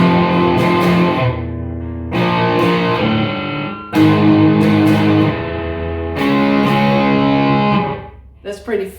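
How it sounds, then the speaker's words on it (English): Matte black Peavey Vandenberg signature electric guitar with slight crunch, loud strummed chords ringing out in four sustained phrases separated by brief gaps, with no talk over the playing. "So that's a clean sound, and with a little bit of crunch."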